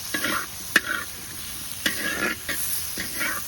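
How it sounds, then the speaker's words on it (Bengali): Potato and cauliflower sautéed with ground chilli spice paste in a pan, giving a close sizzle with a few sharp spatula scrapes and stirring strokes, no talking. "আলু আর ফুলকপিটাকে ভালো করে কষিয়ে নেব"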